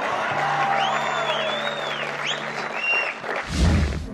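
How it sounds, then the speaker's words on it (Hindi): A large stadium crowd applauds and cheers steadily, with rising whistles cutting through the roar and a low sustained hum underneath; the noise swells near the end. "सीटियां वो तालियों की गड़गड़ाहट वो तब से ही बरकरार है"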